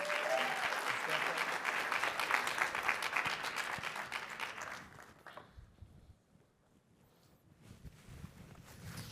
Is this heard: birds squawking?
no